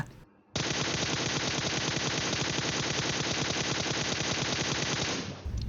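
Sustained automatic gunfire in PUBG Mobile: a loud, unbroken stream of rapid shots runs for about five seconds at a steady level, then stops abruptly.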